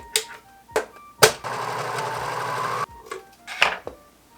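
A serger sewing machine stitches fabric in short bursts, then runs steadily for about a second and a half, then gives a few more brief runs, all close and clear with no talking.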